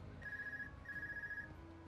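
A telephone rings in Trails of Cold Steel II, two long electronic trill bursts separated by a short pause, steady and fairly quiet, with no voices.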